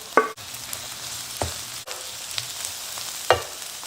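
Garlic and translucent onions fry in a pan with a close, continuous sizzle, broken by a few sharp scraping stirs and clicks.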